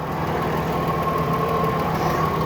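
A Hyundai Sonata's engine runs at a steady idle, a constant close mechanical hum with a faint whine, loud and unbroken throughout.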